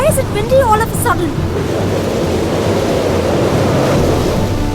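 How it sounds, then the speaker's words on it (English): Sudden gusting wind roars as a steady, broadband rush throughout, loud and sustained, with a brief voice-like tone at the start. "Why is it windy all of a sudden?"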